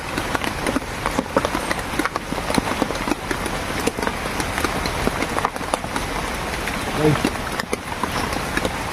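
Steady heavy rain hisses and patters continuously, with a person speaking faintly underneath.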